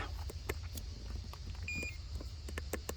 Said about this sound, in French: décidément, il y en a des bips